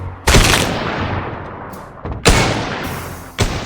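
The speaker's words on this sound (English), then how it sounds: "I put in some shooting sound effects" Gunshot effects from a whack-a-mole shooting game: three loud, booming shots, each with a sharp attack and a long decaying tail, spaced about a second apart and heard alone.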